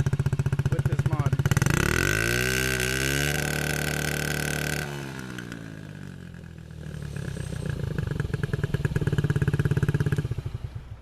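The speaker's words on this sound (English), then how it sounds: "The exhaust just sounds a lot more louder with this mod." A Honda Ruckus scooter fitted with an air filter mod runs close by, its exhaust popping and rumbling as the revs climb, hold and fall back to a choppy idle, with brief talking over part of it.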